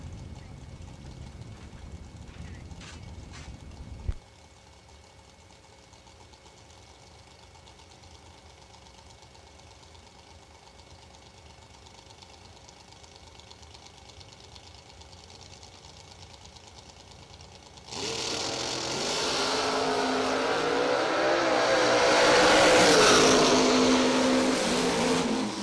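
At a drag strip, a Camaro and a Nova launch side by side. A steady low engine rumble gives way to a sudden loud roar of engines revving up and pulling away, which keeps building to the end.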